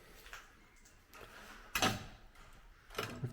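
Till drawers in the ticket booth of an abandoned ballroom sliding open or shut, two sharp knocking thuds about a second apart with faint rattling between, close by in a quiet room.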